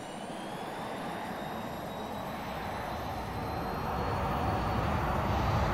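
An AV-8B Harrier jet engine spools up in the X-Plane 11 flight simulator, a dense, steady roar with thin whining tones that grows slowly louder toward the end.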